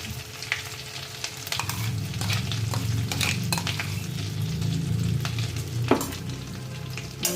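Paneer curry frying in a pan, a continuous loud sizzle with repeated scraping and clinks as a utensil stirs against the pan, close and steady without talking.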